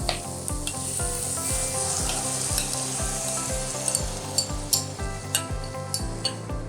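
Pizza pasta sauce hits stir-fried vegetables in a pan, giving a continuous close sizzle with rhythmic stirring strokes and occasional clinks of a spoon against the pan.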